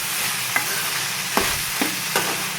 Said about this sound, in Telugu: ఇంకా కొంచెం వేయించుకోవాలి.